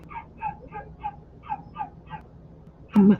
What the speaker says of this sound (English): That is one yippy yappy dog today.